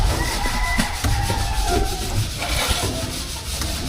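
Dry rasping strokes of sandpaper rubbing back and forth on a surface, steady and fairly close, repeating without pause.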